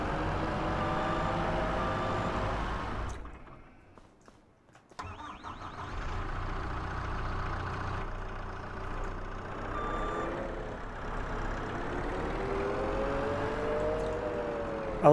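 Skid steer engine in Farming Simulator 25, a steady mid-pitched mechanical drone that dips out briefly near the start, then resumes and runs evenly with slight pitch shifts, no voices.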